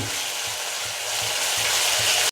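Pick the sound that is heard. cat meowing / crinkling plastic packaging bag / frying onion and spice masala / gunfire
frying onion and spice masala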